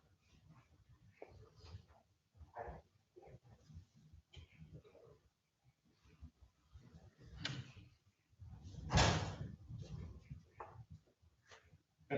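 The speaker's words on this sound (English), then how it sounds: "That's the best door, so you guys can hear that." A door opens or closes in a room during a remote court hearing, one clear thump-like knock standing out among scattered softer knocks and murmuring voices, heard faintly through a meeting connection.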